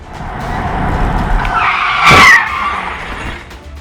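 A truck skids out of control on a highway with a loud rising tire screech that peaks sharply and fades, over a rumbling engine and road noise.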